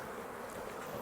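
Honeybees buzz in a close, steady drone during a hive inspection, a brief continuous hum with no talking.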